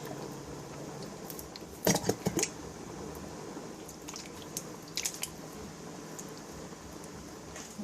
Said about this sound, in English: Now add the tomatoes with their liquid.